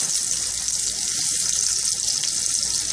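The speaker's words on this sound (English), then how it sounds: "Okay, this is my last batch that I'm frying up." Batch of food frying in a pan, a steady dense sizzle and crackle running continuously at close range with no voices.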